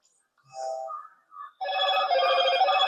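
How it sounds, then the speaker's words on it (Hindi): A phone ringtone sounds nearby, a couple of short melodic tones followed by a loud, sustained, warbling ring with no talking over it. "फोन आ रहा है कहाँ?"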